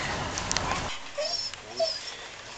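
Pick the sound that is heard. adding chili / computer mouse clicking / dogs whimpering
dogs whimpering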